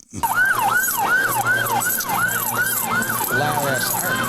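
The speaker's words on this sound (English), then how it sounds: "we heard the unit siren" A loud police-style siren wails close by, sweeping up and down in quick, regular cycles without a break.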